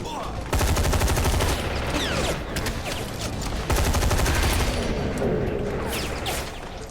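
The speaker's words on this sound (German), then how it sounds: "Wer schießt da?" Rapid automatic gunfire in the video game Hazard Ops, loud and dense, with fast bursts running almost continuously for about seven seconds.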